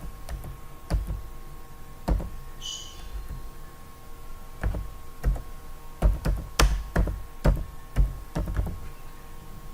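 Scattered taps on a computer keyboard, a few isolated key presses and short bursts of clicks, close and fairly quiet against a faint steady hum.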